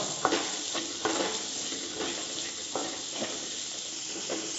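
Chopped carrots and beans sauté in a hot pan. The sizzle is close and continuous, broken by periodic scraping stirs of a spoon against the pan.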